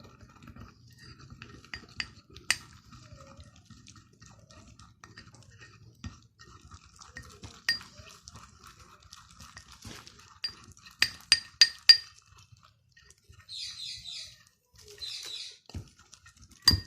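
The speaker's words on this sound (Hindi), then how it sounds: "और इसमें हम रोज़ वाटर डालेंगे। और इसको मिक्स करेंगे।" A spoon or spatula clinks against a small bowl while rose water is stirred into a homemade skin-whitening face pack, giving light scattered taps and a quick run of sharper clinks near the end, close up with no talking.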